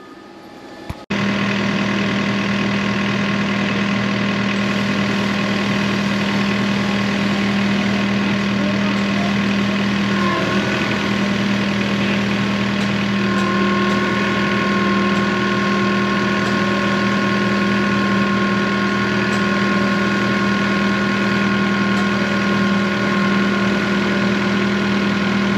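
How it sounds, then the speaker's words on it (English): A Jeep engine runs steadily at idle while powering a winch rigged with a snatch block, producing a loud, continuous drone with a constant hum throughout and no talking. "As long as my Jeep stays running, this should be it."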